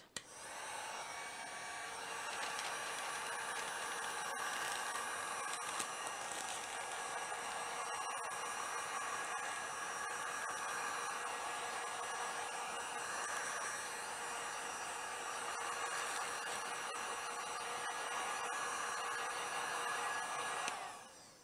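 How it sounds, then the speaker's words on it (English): Heat gun blowing steadily while heat-shrinking a sublimation wrap, a continuous airy roar at close range holding level for the full stretch with no talking. "my advice is to heat shrink everything and do the handle part last"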